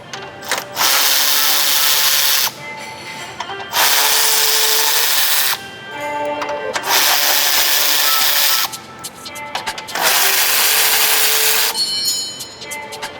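A power tool removes 10mm bolts from the grille of a GMC Sierra during a light bar install, loud whirring bursts alternating with short quieter pauses and clicks.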